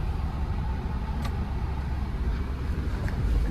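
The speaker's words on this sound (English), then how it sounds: "Uh-oh, we got a traffic jam." Cars in a traffic jam on a coastal road, heard from inside a vehicle as a steady low rumble of engines and road noise with no talking.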